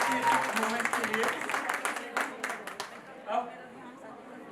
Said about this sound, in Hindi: मेरी दोनों दीदियों के लिए बहुत जोरदार तालियां